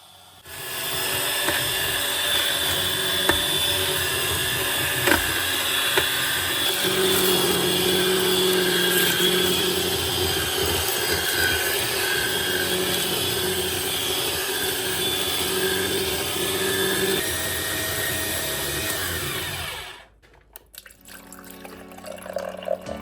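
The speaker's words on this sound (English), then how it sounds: "Canoly also worked well with 3 celery stalks once I helped push them towards the auger." A Canoly slow juicer juices three celery stalks, its motor giving a steady whirring hum with faint grinding and trickling for about twenty seconds before it cuts off abruptly, followed by quieter handling noises.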